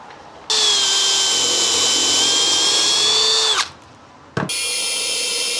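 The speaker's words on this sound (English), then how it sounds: "I'm just going to drill an hole in there to insert a screw" A power drill fitted with an auger bit bores a hole in wood, running steadily at high speed for about three seconds, winding down, then starting again briefly with a steady whine, close and loud.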